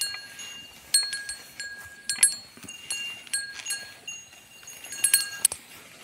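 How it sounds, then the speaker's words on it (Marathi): Goats graze in a forest alongside cattle, with bells clinking in scattered bursts and soft rustling underneath, fairly near and with no voices. "इकडे बकऱ्याही मस्तपैकी चरतात."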